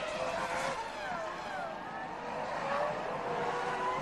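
Formula 1 cars from the 2002 season, McLaren-Mercedes and Williams-BMW, racing wheel to wheel in an overtaking battle, with a steady high engine whine and shifting pitch sweeps as the cars pass, under a continuous broadcast mix.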